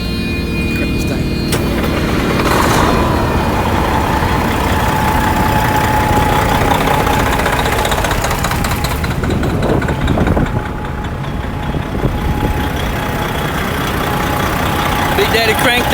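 A 1999 Freightliner Classic XL truck with a 12.7-litre Detroit Series 60 diesel idles close by in a steady, even rumble with no change in revs, and faint talk comes and goes over it.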